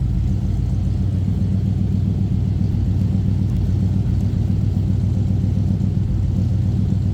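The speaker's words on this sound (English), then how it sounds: "A little rumble coming out of this 400. Let's take a listen." A 1973 Dodge Charger's 400 engine idles with a deep, throaty exhaust rumble, steady and close, with a low pulsing burble and no talk.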